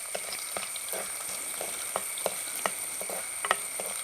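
Ginger frying in a pan for mango pickle: continuous sizzling hiss broken by irregular crackles and pops, close and fairly loud, with no voices.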